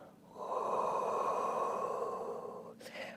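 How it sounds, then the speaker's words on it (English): A long, deep exhale during a Pilates exercise, close and steady for about two seconds, followed by a short sharp breath at the end. "And again, deep breath in. And breathing out."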